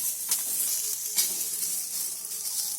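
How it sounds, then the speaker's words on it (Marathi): Small capsicum pieces frying on a tawa, a steady bright hiss of sizzling oil with a couple of faint soft stirring taps, close and fairly quiet. "त्या तव्यामध्ये एक शिमला मिरची फ्राय करून घेते"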